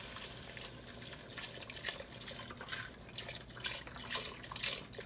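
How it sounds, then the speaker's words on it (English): Beef broth pours steadily into a pot for an old-school beef stew, a continuous splashing, gurgling liquid stream heard up close with no talking. "I'm gonna pour my beef broth in here now."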